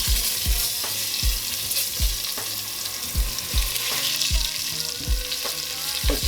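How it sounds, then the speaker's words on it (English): A whole medium-sized onion, roughly chopped, sizzles loudly in hot oil in a pot used for short ribs. A dull thump of stirring recurs every half second or so under the constant frying hiss. "we're gonna go in with some roughly chopped onions"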